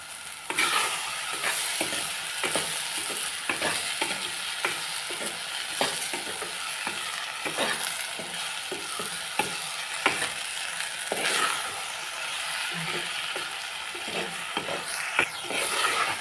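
Vegetables and spices sauté in a pan for a Malvani-style vegetarian thali, with a steady loud sizzle broken by repeated scraping stirs of a spoon, close and continuous with no talk.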